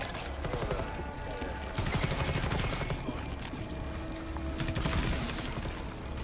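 Dense bursts of automatic gunfire fill the scene in the video game Rainbow Six Extraction, rapid rattling volleys continuing for several seconds, loud and close and layered over other game noise.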